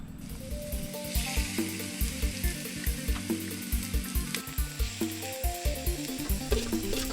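Steady sizzling of pork frying in a pan, a constant hiss with a rhythmic mechanical clicking underneath, fairly quiet and close.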